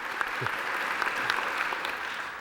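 Audience applause at a talk featuring Brian Eno and Will Wright, a steady wash of clapping at moderate level with a few sharper claps standing out, no talking over it.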